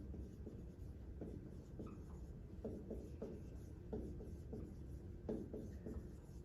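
Chalk or marker writing on a board during a Spanish lecture, soft scratchy strokes tapping out in short irregular bursts, faint and close, with no one talking.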